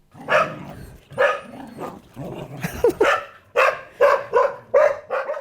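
Two young dog sisters, about a year and a half old, bark in a string of sharp, loud yaps and yips at close range, roughly one every second, with no talk.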